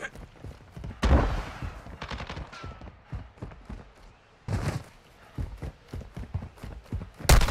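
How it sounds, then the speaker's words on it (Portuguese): Gunfire in a Call of Duty: Modern Warfare II match, bursts of rapid shots and sharp cracks scattered across the stretch, some loud and close, others more distant, with faint footsteps and player chatter in the background. "Tô levando tiro."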